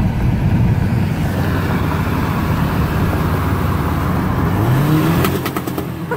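A turbocharged Volkswagen Passat running loud and close in the street with a sustained rough, droning engine roar. Pitch rises and falls as the revs change, and a few sharp crackles sound near the end.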